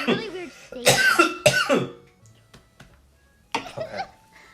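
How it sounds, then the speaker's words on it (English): A person coughs in several harsh, close bursts, clustered early and again near the end, with quieter gaps between and no clear speech. "I'm coughing so much."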